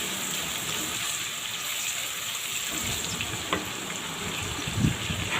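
Whole cardamom pods and torn bay leaves frying in hot oil while being stirred, an even close sizzle with soft crackle, a couple of louder scraping knocks near the end.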